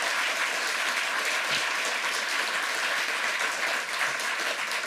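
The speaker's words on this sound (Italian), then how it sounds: "vi chiederei un applauso" Sustained, even applause from a large audience at a morning talk welcoming a guest speaker, a dense wash of clapping that holds steady throughout.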